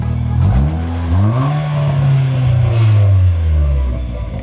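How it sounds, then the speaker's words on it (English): A Dodge SRT4 with a custom turbo exhaust revs hard nearby, its engine note climbing and holding in a loud, steady drone before easing off, with no talking over it. "What do you guys think of that exhaust"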